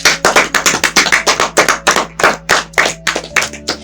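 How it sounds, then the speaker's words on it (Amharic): Children clapping their hands together in a quick, fairly even rhythm: around seventeen sharp, close claps over a few seconds, with no voices. "አጨብጭቡለት"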